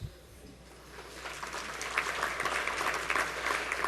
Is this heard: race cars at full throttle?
no